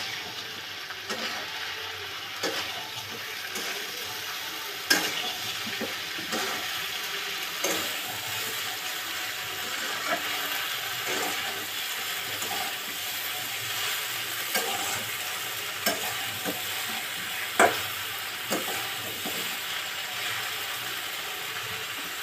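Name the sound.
taro stolons being half-fried and stirred in a pan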